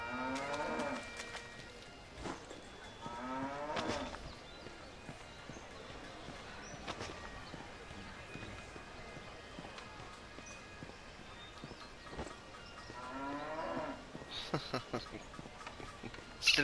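Cows moo several times in The Bard's Tale video game, drawn-out lowing calls spread through the clip, with hoof-like clip-clop steps and game sounds underneath.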